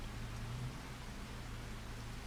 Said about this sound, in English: is that the beginning of the rain?